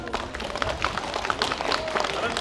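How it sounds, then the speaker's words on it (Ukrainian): An audience at a hip-hop dance studio recital battle for beginner children, clapping in dense, steady applause, with voices of the crowd and a speaker mixed in. "Ура! Аплодуємо."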